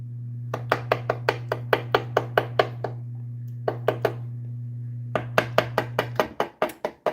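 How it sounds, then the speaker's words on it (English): A knife tip pokes air holes in the dough crust of a turkey pot pie: a quick, even run of sharp taps, a short pause, then another burst, close over a steady low hum. "we're just gonna give it a little knife poke"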